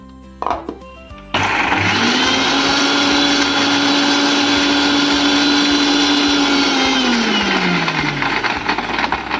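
A mixer grinder blends green chillies, garlic, ginger and coriander stems, starting abruptly after a few light knocks and whirring loudly and steadily for several seconds before the motor pitch drops as it winds down at the end.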